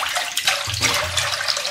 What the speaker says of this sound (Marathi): तर मी कढईमध्ये 2 ते 3 कप पाणी घालून घेतलेलं आहे